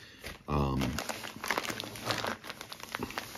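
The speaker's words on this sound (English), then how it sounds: "Hopefully I haven't cut the plastic bag." A plastic bag crinkles and rustles as a package holding a silver bullion bar is unwrapped, with close handling noises throughout and a short burst of talking near the start.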